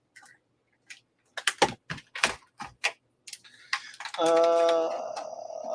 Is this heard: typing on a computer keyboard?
yes